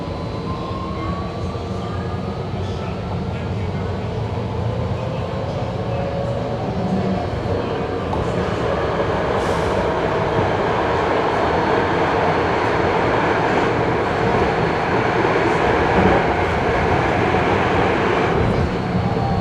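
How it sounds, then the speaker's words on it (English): A passenger train pulls out of San Jose station on its way to San Francisco, a continuous loud rumble and rolling roar heard from on board that builds slightly over its length, with no talking. "This is the train leaving San Jose, heading up the track"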